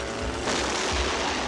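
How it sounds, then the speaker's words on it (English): A cartoon mutation torpedo launching with a loud, sustained broadband roaring whoosh that swells after a brief moment and holds steady, dense and close. "I've been waiting for an excuse to fire my mutation torpedo"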